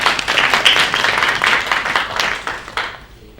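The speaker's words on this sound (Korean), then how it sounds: "박수로 맞이해 주시기 바랍니다." An audience at a community presentation event claps to welcome a speaker, producing a loud, dense round of applause that holds steady and then tapers off quickly near the end.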